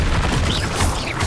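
A Bombarda blasting spell goes off in Hogwarts Legacy, a loud, thick boom that fills the short moment with continuous crashing rumble.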